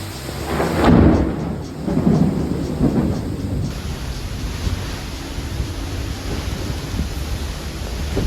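Thunder from lightning strikes during a storm at sea, heard from a cruise ship: deep rumbling booms rolling in close and loud over the first few seconds, then fading into a steady rush of rain and wind.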